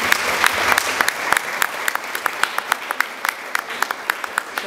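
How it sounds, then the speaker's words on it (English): Audience applause after an evening talk and discussion, a dense, steady round of clapping from many hands in a hall, continuing for several seconds and thinning slightly toward the end. "Round of applause for Dr. Martin Glynn."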